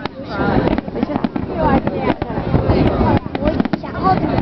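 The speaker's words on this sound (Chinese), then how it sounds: "看烟花" Fireworks at the 2008 Hangzhou West Lake International Fireworks Festival, a dense run of pops and crackling bursts in steady succession, loud and close, with crowd voices mixed underneath.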